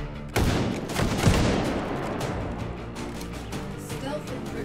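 Gunfire bursts and a grenade explosion crack out in the VR shooter game H3VR, starting with a sharp loud blast and followed by a rumbling, sustained din of rapid shots.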